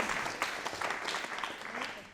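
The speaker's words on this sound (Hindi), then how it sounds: "एक बार प्रहलाद जी की कविताओं आपने बहुत अच्छी लगी हो तो एक बार ताली बजाओ" An audience claps at a Rajasthani comic poetry gathering, a short burst of dense, fairly distant applause with a murmur of voices beneath.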